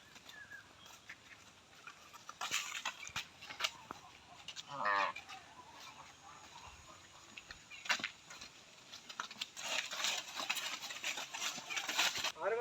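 A young Sahiwal calf, under a month old, moos at a rural cattle sale amid other farm animal calls, with distant chatter, scattered clatter and background noise around it.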